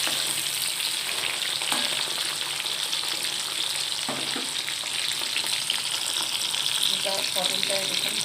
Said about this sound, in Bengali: পটলটা দেখুন ভাজা হচ্ছে